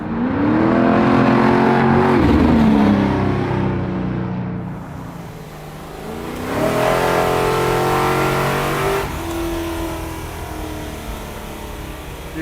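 A custom Ford Galaxie 500 engine revs hard and loud up close, climbing in pitch, dropping back, then surging again with a throaty sustained roar.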